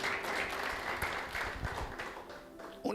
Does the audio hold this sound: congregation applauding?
yes